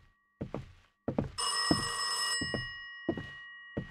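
Phone ringing in the Mirror-Mirror game, a harsh bell-like ring lasting about a second amid a series of short thuds and knocks, fairly loud and close, with no talking.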